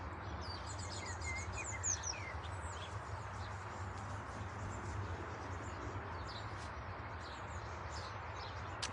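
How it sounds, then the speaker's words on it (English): Birds sing outdoors, their faint high chirps and trills scattered at a distance over a low, steady background hum, with no one talking. "Hoping you can hear the birds here as well."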